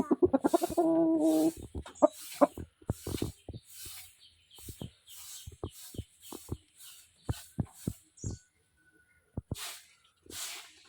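Chickens cluck close by in short, repeated bursts, with a longer rising squawk at the start and quieter pauses between calls.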